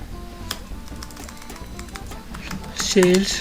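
An email being typed on a computer keyboard, steady clicks of keys at a moderate pace, fairly near, with a voice talking near the end.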